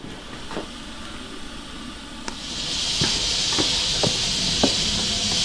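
A pig stomach stuffed with two pigeons cooks in a lidded large iron wok. Scattered soft knocks give way to a steady, close steam hiss that builds partway through and continues to the end.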